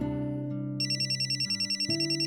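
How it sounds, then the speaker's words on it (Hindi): A phone rings with a repeated electronic tone, pulsing in a steady rhythm over a low sustained chord, close and fairly loud. "तुम्हारा फोन बज रहा है।"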